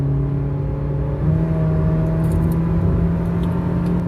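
A Honda Jazz GK with an aftermarket JTC exhaust drones steadily and close while climbing a slope, rising slightly in pitch and loudness as it accelerates, with a deep, throaty exhaust tone throughout.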